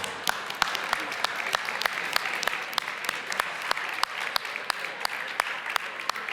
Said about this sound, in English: Shall we start an applause?